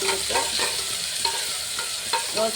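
Tomato fries in a pan for awarekalu sambar while a spatula stirs it, close sizzling broken by repeated scraping strokes in an uneven rhythm, with no talking.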